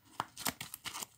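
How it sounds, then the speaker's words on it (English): Cards from a board wargame are shuffled close up in a quick, faint run of papery riffling and snapping lasting about a second. "We shuffle up the Italian cards."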